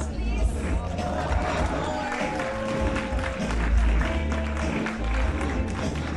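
An audience on a cruise ship claps and cheers during a lottery prize draw, a steady dense patter of applause filling the room throughout.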